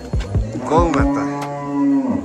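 A cow in a cowshed lets out one loud, close, long moo that rises and holds steady before trailing off, with no talk over it.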